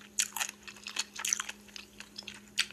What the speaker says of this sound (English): These pickles probably be crunchy to her, but if I eat that pickle like this